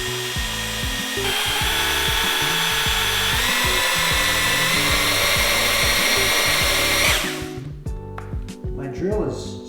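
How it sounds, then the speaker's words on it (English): Power drill whirring loudly and steadily while stirring a can of pink paint, holding a constant high whine before cutting out near the end, leaving faint clatter and handling noises. "That's not me stopping, that's my drill."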